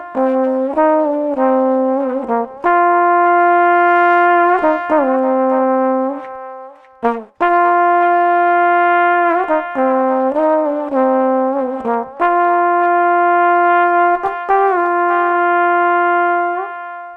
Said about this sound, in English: soloing just the delay and the original unprocessed bone sounds like this